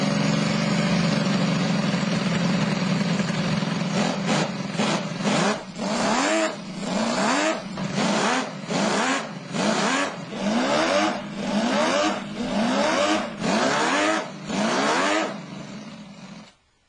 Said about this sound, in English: a scaled-down version of the original engine, which actually works. It makes the Ferrari music.